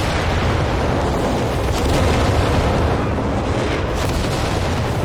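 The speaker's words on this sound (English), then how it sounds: "runs into a whole bunch of mines and the squad's dead" Mines explode in a Company of Heroes 3 battle as an infantry squad runs into a minefield, with loud, continuous rumbling blasts and booms filling the whole stretch.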